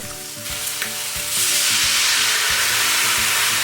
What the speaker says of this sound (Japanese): フライパンにオリーブ油を熱し、皮目をこんがりと焼きます。